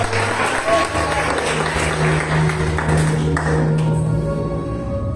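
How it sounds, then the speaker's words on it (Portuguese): A church congregation claps for Jesus, sustained dense applause filling the room over a low sustained musical hum, with a voice faintly underneath. "as palmas são para Jesus"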